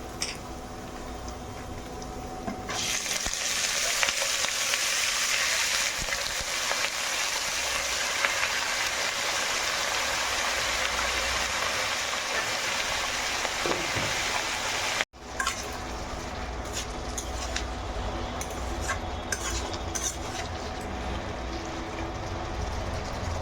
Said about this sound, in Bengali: পেঁয়াজটা লাল করে ভাজা হয়ে গেছে, এবার লাউগুলো ছেড়ে দেবো।